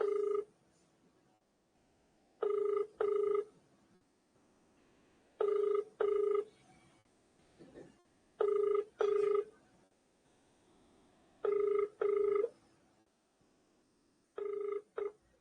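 Telephone bell ringing in repeated double bursts, roughly every three seconds, with quiet gaps between rings and no talking.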